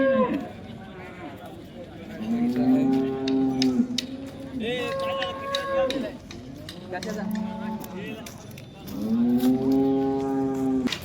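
Khillar cattle moo repeatedly at a cattle market, several long, loud lowing calls rising and falling over crowd chatter and people talking nearby.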